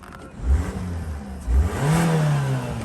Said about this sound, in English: Give the engine a little rev just to see how she sounds.